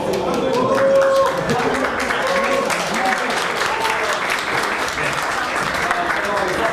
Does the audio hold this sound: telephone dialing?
no